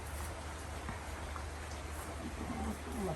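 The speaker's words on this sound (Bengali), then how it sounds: "বিরাট বৃষ্টি হচ্ছে" Heavy rain falls steadily in a village, a dense, even hiss with no pauses, heard from nearby.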